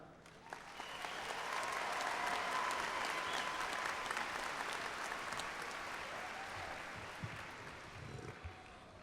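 A large audience at a University of Alabama in Huntsville fall graduation ceremony gives the graduates a sustained round of applause, dense clapping that swells and then gradually fades, heard faintly from a distance.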